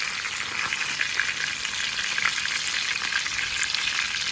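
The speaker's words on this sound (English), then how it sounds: "And I keep frying." Fish fries in a pan over high heat, giving a steady, dense sizzle that stays close and constant throughout with no talking.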